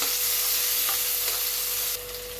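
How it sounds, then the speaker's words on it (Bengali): Tomato frying in a pan with onion and garlic makes a steady, close sizzle with a few stirring scrapes, the hiss easing slightly near the end. "পেঁয়াজ রসুনটা একটু ভাজা হয়ে গিয়েছে এবার আমি টমেটোটা দিয়ে একটু ভাজা করে নিচ্ছি"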